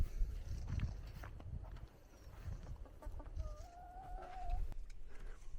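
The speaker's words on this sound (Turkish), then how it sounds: "Gelmişken tavukları da açalım." Chickens at a mountain house cluck in short bursts as their coop is opened, fairly faint over low rumbling background noise, with a few clearer calls toward the middle.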